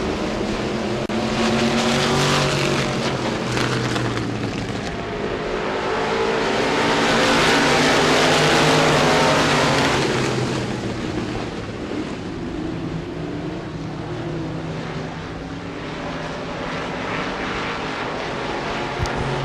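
Limited modified race cars roaring around Devils Bowl Speedway dirt oval, a loud continuous engine drone that swells as the pack sweeps past and then recedes slightly, with no voices over it.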